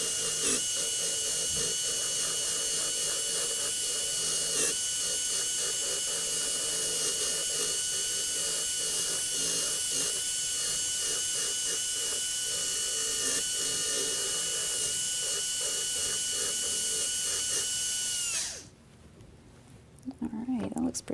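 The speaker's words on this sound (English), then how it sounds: "we're going to finish this up with our Jiffy brush" A Jiffy brush loaded with polishing agent whirs continuously on a handpiece while polishing a dental restoration, a steady high-pitched close drone that cuts off near the end.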